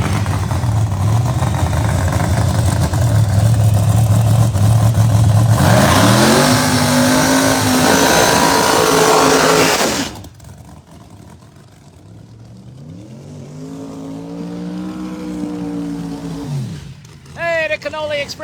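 Pro Mod drag race cars at the Bradenton World Series roar at full throttle, a loud raw engine blast that cuts off abruptly, followed by another engine revving in rising and falling surges as a voice talks over it.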